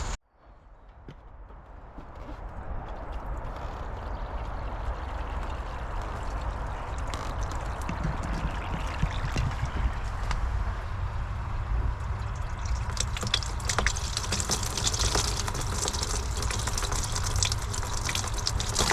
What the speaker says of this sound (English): we definitely need to do a last test and make sure that the water runs down nicely